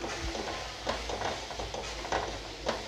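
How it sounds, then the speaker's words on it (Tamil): Spice masala with chilli, coriander and turmeric powders sautés in a pan, giving a soft continuous sizzle broken by a few scraping stirs, fairly quiet and close. "இது எல்லாத்தையுமே சேர்த்துட்டு நல்லா வதக்கி எடுத்துடலாம்."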